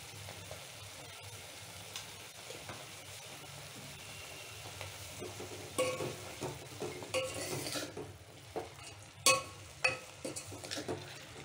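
Amaranth leaves stirred and cooked in a pan with turmeric and salt: a soft background sizzle, then a run of clinking spoon scrapes against the pan toward the end, close and fairly quiet.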